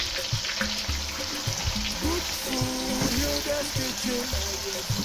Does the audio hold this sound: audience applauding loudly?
no